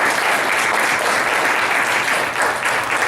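A room of audience members at a panel discussion applauds steadily, dense continuous clapping that stays loud throughout.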